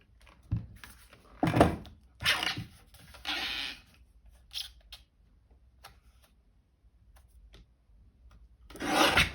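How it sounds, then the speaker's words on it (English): A paper trimmer cuts cardstock in a series of short, close rasping swipes with quiet gaps between them, and a final swipe at the end. "excuse me whilst I reach for my trimmer"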